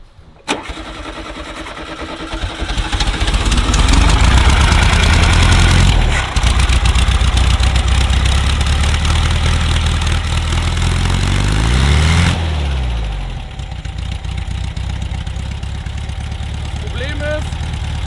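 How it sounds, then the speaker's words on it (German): An old VW Beetle engine, already warm, cranks and starts, revs up loudly, then settles into a lumpy, rumbling idle close by, with voices talking over it. "Der Motor ist eigentlich jetzt schon warm"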